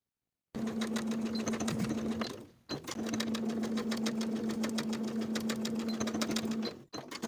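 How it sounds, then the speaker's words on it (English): A sewing machine stitches across the placket of a denim jacket, its needle chattering in a fast, steady rhythm with a motor hum, pausing briefly once and again near the end, close and alone. "for the bottom edge, we're going to sew from the outer fold to our finishing stitches for the full width of the placket"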